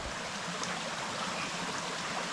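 A small forest creek deep in unfamiliar jungle near dusk, its water trickling and rushing steadily and close by, a continuous broadband wash with no voices.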